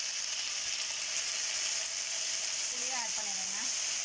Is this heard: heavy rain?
no